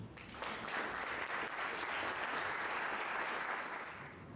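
A church congregation applauds, a dense, even wash of clapping from many hands heard somewhat faintly at a distance, rising quickly and holding steady throughout.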